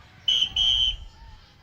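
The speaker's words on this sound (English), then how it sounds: "we heard a whistle blow" A referee's whistle blows at a high school football game, two sharp shrill blasts in quick succession, the second longer, loud over low crowd and field noise.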